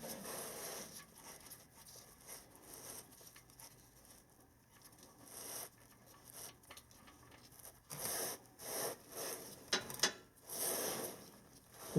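A ratchet works loose the refill plug on the transfer case of a 2008-2019 Toyota Sequoia or Tundra, with a series of quiet clicks and metallic handling noises that pick up near the end, close and faint, with no talk.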